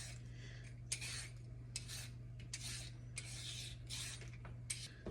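Carrots rasped against a metal grater in a kitchen, a series of rhythmic scraping strokes in short bursts, close and fairly quiet over a steady low hum.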